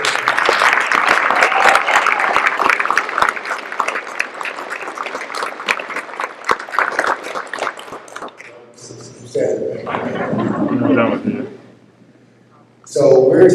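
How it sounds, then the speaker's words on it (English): Audience applause at a high school awards address fills the first eight seconds as dense, loud clapping, then fades into scattered bursts mixed with voices. "Please give another round of applause to Sandusky High School senior."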